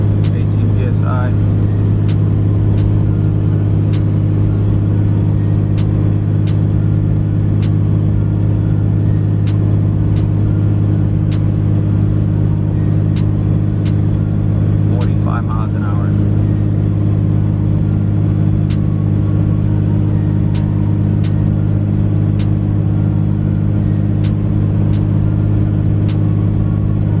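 Cummins diesel truck fitted with its stock exhaust manifold pulling uphill at 18 psi boost on a cool 67-degree day, a loud steady low engine drone with continuous rumble and faint ticks throughout.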